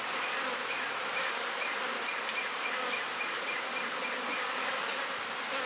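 A dense, steady buzz of many honeybees swarming close by around an open hive, with individual bees droning past now and then.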